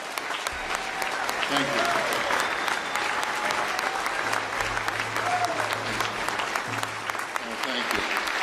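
Sustained audience applause at a cabinet swearing-in, many hands clapping continuously while a speaker's voice murmurs thanks beneath it.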